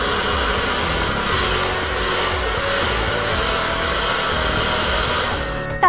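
A handheld hair dryer blows steadily and loudly for several seconds, a continuous broadband whoosh drying things indoors, cutting off with a click at the end.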